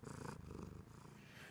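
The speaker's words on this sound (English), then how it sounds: "Purring kitty." A cat purrs close up, a soft rhythmic rumbling with a steady pulsing pattern that eases slightly toward the end.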